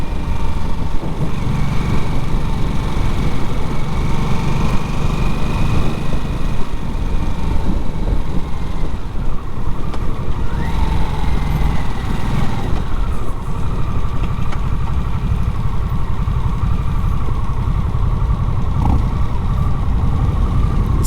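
A liquid-cooled 2024 Harley-Davidson Nightster engine runs steadily while ridden in fourth gear, a continuous mid-pitched drone with wind rush and no talk.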